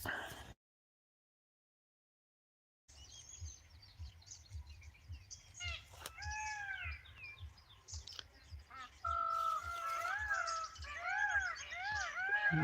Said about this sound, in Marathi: बघा हे मोरांचं किळकिळाट